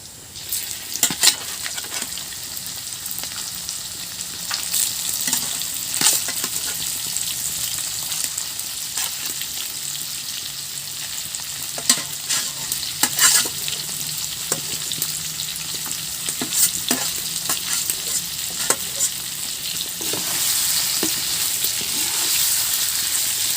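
Marinated chicken sizzles loudly with onion, bhut jolokia chili and bay leaf while being stirred, a dense, close frying hiss broken by sharp clacks and scrapes of the spoon against the pot at an irregular pace.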